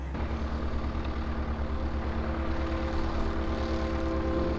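A Vashon Ranger R7 light aircraft's engine and propeller drone steadily and loudly, a continuous low pulsing hum with no pauses.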